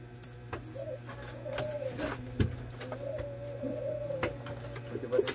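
Soft, repeated cooing from a small gray-brown bato-bato dove kept in a cage with a second bird, heard at moderate distance over a steady low hum and scattered faint background noises.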